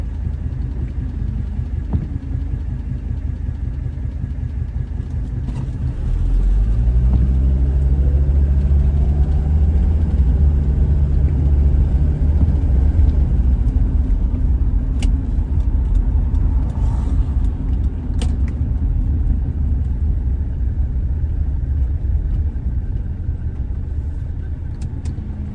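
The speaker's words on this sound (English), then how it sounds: "BMW i3. I remember when those came out." A BMW i3 drives past on a rainy day in a public park setting, a low rolling rumble swelling in from near-silence and lingering steadily before slowly fading.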